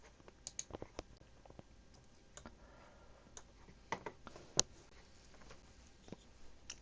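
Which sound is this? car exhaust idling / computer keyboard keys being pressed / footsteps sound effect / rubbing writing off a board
computer keyboard keys being pressed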